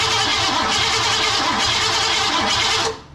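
A motor nicknamed Lt. Dan, fired with the coil held and button pushed, churns steadily in a rough cranking rhythm for nearly three seconds without catching, loud and close, then cuts off abruptly.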